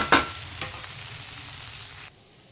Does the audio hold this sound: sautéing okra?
yes